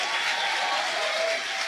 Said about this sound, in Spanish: Dale un aplauso al Espíritu de Dios.